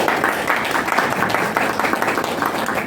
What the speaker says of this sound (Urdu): تو سب سے پہلے تو منشا یاد کے لیے اپلیز اور تالیاں